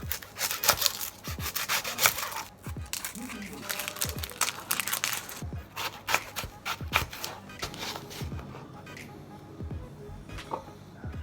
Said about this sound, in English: We cut the onions.